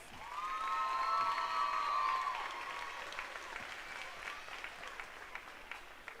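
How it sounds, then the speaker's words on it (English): A crowd at a school livestock lamb show applauds the showmen, a steady wash of clapping with some cheering and a high whistle near the start, swelling then easing off over several seconds. "let's give them one more big round of applause"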